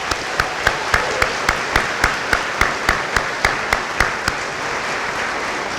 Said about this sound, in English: let's take a moment to applaud you for sticking to your goals and your major milestone today